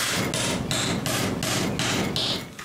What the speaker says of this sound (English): laid the other plywood on top, and nailed this